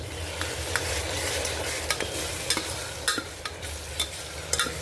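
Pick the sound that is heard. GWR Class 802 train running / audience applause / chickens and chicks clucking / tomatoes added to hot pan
tomatoes added to hot pan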